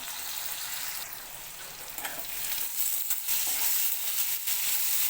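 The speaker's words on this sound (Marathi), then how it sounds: "वांग्याच्या फोडी आता तळून घेते" Brinjal pieces fry with salt and turmeric in a pan, giving a steady, fairly loud broadband sizzle that builds slightly toward the end, with faint stirring scrapes and no voices.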